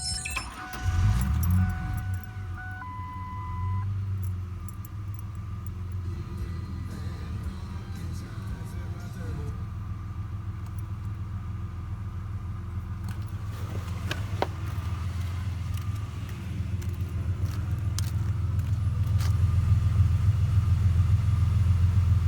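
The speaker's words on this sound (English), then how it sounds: "this fires up pretty much every time on the first try" A 1998 Ford Explorer XLT starts after a jangle of keys and catches on the first crank, then settles into a steady low idle that rumbles on evenly and grows slightly louder toward the end.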